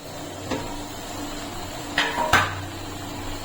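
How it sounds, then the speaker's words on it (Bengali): A metal plate clanks onto a pot of rasgulla syrup, with a soft knock followed by two sharper clinks near the end, nearby against a quiet background with no speech. "এখন আমি একটা থালা দিয়ে এরকম ঢেকে দিচ্ছি, সামান্য ফাঁকা রাখছি।"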